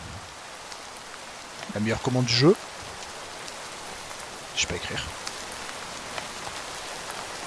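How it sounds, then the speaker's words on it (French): Steady rain hiss falls in a modded fantasy video game, an even wash of sound throughout, while someone speaks briefly in French over it. "Ah, il pleut."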